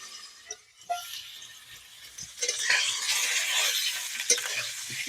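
Potato pieces frying in a pan, a soft sizzle that swells into a steady crackling hiss halfway through, with a few scraping stirs and light clinks along the way; no one speaks.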